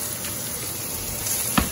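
Fish, such as mangrove snapper, redfish or black drum, sizzles in a frying pan, a brief steady crackling hiss with a small bump near the end.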